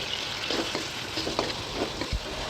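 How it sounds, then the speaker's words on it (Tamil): Tomatoes fry in a pan with onions for a curry base, a steady close sizzle broken by soft scraping stirs and one brief knock. "தக்காளி இதோட சேர்த்து நல்லா வதக்கிக்கணும்"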